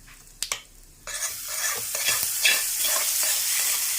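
A couple of sharp clicks, then a sudden hiss as mustard seeds hit hot oil and sizzle steadily with light crackling and popping, close up.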